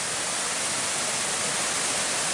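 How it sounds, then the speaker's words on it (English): Steady broadband roar of a waterfall in Chilean Patagonia, on a property among the Cordillera, heard close and constant without pause and with no voices. "So there's the other waterfall."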